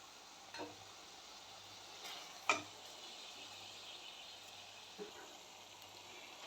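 Ginger-garlic paste stir-fries in a pan for doi katla: a faint, steady sizzle with a few scattered light clicks of a spoon against the pan.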